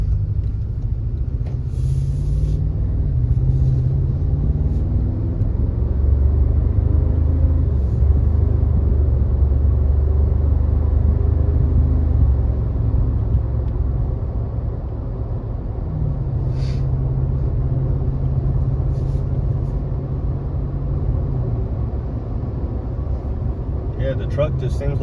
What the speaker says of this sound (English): the truck just seems like it just cruises right along, and it's got a really good sound